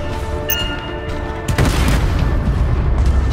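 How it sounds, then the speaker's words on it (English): Explosives detonate in the video game Anthem: a brief metallic clink, then a heavy booming blast that rolls into a sustained loud rumble with crackling debris. "I think the explosion destabilized the foundry"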